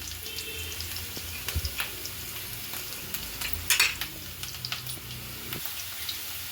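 Chopped onions, green chilies and cumin fry for ghee rice with a steady close sizzle, broken by a few soft stirring clinks and one brief brighter crackle midway.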